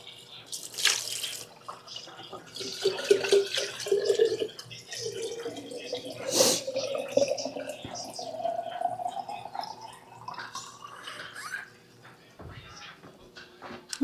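Tap water runs into a pot in a kitchen, a close steady pour whose pitch rises as the vessel fills, with a person talking over parts of it.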